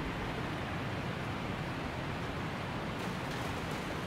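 Waterfall basin in the Ainsel River Well depths of the video game Elden Ring, a steady broad rushing roar of falling water that holds level throughout, with no voices.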